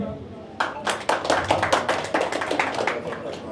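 An audience at a Ramadan fasting health talk in Edavanna breaks into applause, a burst of many hands clapping that starts after a brief pause and carries on briskly to the end, fairly close.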